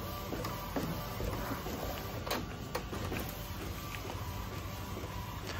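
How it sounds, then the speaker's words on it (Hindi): An Epson L18050 roll sublimation printer runs a print job, making a steady, continuous mechanical whir and hum with faint soft clicks, close and unbroken throughout. "मैंने यहाँ पर प्रिंट ऑप्शन हिट किया। जैसे प्रिंट शुरू की मैंने,"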